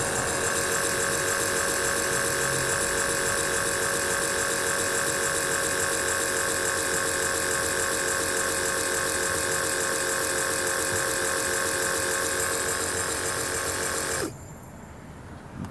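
An electric fuel pump on a truck runs with a steady, high-pitched whine and buzz for about fourteen seconds, then cuts off abruptly, leaving quiet.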